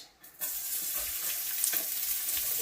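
Onions hit a hot pan for a protein pulao, a sudden loud sizzle that rises and then holds as a steady close frying hiss with light stirring.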